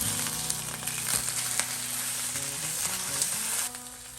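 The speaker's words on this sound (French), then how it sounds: "On peut tourner une première fois la viande." A beef steak sizzles loudly and steadily in a frying pan just after being turned, with a dense, continuous crackle that eases slightly near the end.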